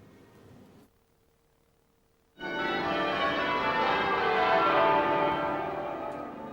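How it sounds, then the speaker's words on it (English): Westminster Abbey's church bells ring for the funeral of the Queen Mother, entering after a short near-silence as a loud, sustained wash of overlapping peals that carries on to the end. "Accompanied by the bells of Westminster Abbey, the Queen Mother's final journey out of the nation's life began."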